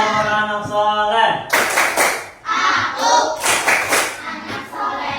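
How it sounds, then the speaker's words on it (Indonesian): After a single voice calls out, a group of children in an Indonesian classroom claps in a quick rhythmic pattern while chanting, the bright, repeated hand claps loud and close, mixed with their voices. "Tepuk anak soleh."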